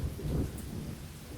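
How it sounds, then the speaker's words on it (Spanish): Heavy rain pours steadily on surfaces outside in a city thunderstorm, with a low rumble of thunder swelling early on, continuous and fairly loud with no voices. "Afuera, una tormenta intensa azotaba la ciudad. La lluvia caía con fuerza."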